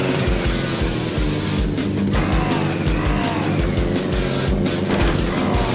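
A car engine revs and accelerates in the zombie-driving game Earn to Die 2, driving a jeep: a loud, steady, pulsing engine drone runs throughout with rhythmic low thumps and a brief dip in the middle, no talking.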